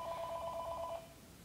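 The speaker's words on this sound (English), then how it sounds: "That's the phone, isn't it?" A telephone rings indoors in the background, one burst of rapid trilling bell for about a second, then it cuts off, fairly faint and alone.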